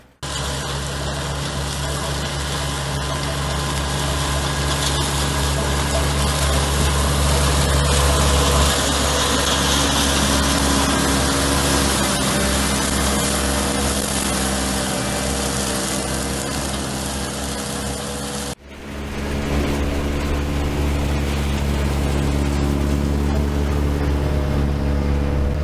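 A LogLogic Soft Track tracked vehicle runs steadily with a constant engine drone, close and fairly loud, and the tone changes abruptly near the end.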